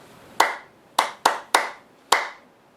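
Five sharp hand claps ring out alone in a ta-ti-ti-ta-ta rhythm, one clap, two quick ones, then two evenly spaced, close and clear in a quiet room.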